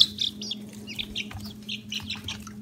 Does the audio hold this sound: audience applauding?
no